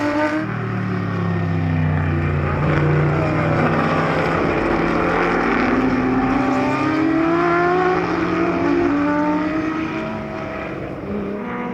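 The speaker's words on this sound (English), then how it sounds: "Another car in front, and Jeffrey O'Neill still third place" Classic Porsche race cars roar along a racetrack, engine notes rising and falling as they sweep past, loud and continuous before the sound eases toward the end.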